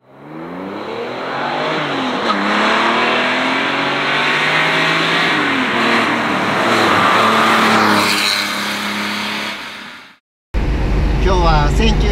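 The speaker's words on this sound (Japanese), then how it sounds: "今日は1974年式のポルシェ 911S に乗っています。" A 1974 Porsche 911S engine sounds from inside while driving, loud and near, its revs climbing and falling through the gears in smooth sweeps before a brief cut and a harsher burst.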